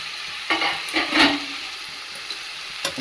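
Banana flower with prawns frying in a pan, a low steady sizzle with a few scraping stirs in the first half and another brief stroke near the end, close up and without talk.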